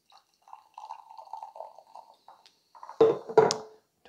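Homemade corn-flavored kombucha poured into a drinking glass: a light liquid trickle and drips, then two louder clinking knocks near the end.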